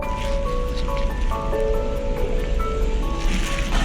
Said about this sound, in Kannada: ನೀರಿನ ರಭಸವು ಹೆಚ್ಚಾಗ್ತಾ ಇದೆ ಮಳೆ ಬಿಡ್ದಂಗೆ ಬರ್ತಾ ಇದೆ